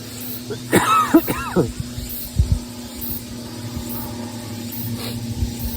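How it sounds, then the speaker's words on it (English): A few dry coughs in quick succession, close and fairly loud, followed by a lower throaty sound, over a steady background hum. "It's a dry cough"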